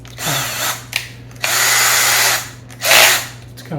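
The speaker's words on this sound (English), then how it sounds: "Go ahead and use my drill" A cordless power drill drives screws into a rain barrel pump setup in short bursts, three whirring runs with brief pauses, close and loud, over a steady low electrical hum.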